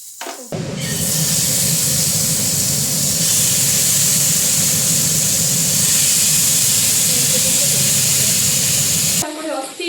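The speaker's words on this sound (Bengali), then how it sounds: "তাওয়া গরম হয়ে গেছে একটু বাটা দিয়ে দিচ্ছি" Batter shaped like a hilsa fish sizzles on a hot tawa griddle, a loud, steady hiss that starts abruptly and runs unbroken for about nine seconds, then cuts off, with a voice heard briefly at the end.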